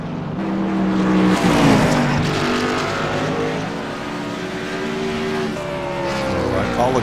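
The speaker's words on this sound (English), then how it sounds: "I know I like them up there so you can hear the cars" Race cars revving and racing on a track, engines droning loudly with rising and falling pitch as they accelerate and pass, heard under someone talking throughout.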